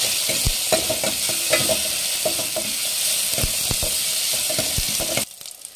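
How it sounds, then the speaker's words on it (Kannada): Tomatoes frying in oil in a pan for rasam, a steady close sizzle with repeated clacks of a spoon stirring throughout, cutting off abruptly at the end. "ಚೆನ್ನಾಗಿ ಟೊಮೊಟೊ ಫ್ರೈ ಮಾಡಬೇಕು ಫ್ರೆಂಡ್ಸ್."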